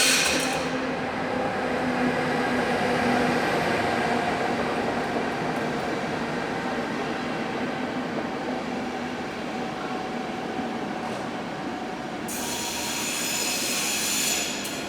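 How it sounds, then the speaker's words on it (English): An electric locomotive hauling a Budapest to Berlin Eurocity passenger train rumbles past with a steady electric hum, rolling wheels and a brief high squeal near the end. "The train here is a Budapest to Berlin Eurocity service."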